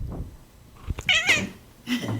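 A cat meows close by, one clear drawn-out meow in the middle with softer short sounds before and after, in a quiet indoor room.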